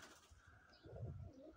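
Pigeons coo softly, with one low throaty coo swelling near the end of the short stretch, faint and alone, with no voices.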